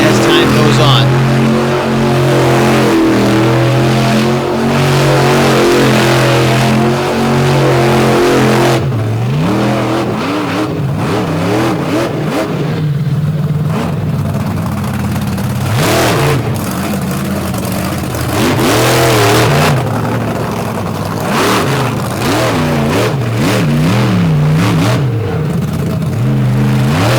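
A monster truck engine bellows and revs hard through a freestyle run at a Tennessee event in 2023, rising and dropping in repeated surges over crowd noise.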